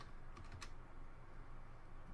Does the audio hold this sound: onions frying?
no